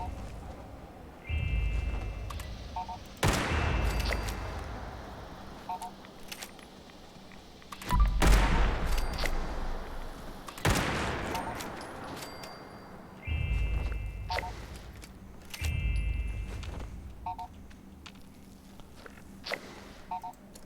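Gunfire in Fallout 76 while shooting red stags: about seven sharp, loud shots spaced irregularly across twenty seconds, each followed by a short reverberant tail, with faint beeping interface tones between them.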